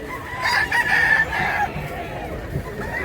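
A brassback gamefowl rooster crows once, moderately loud and a short distance away, above a low background of outdoor noise and faint voices.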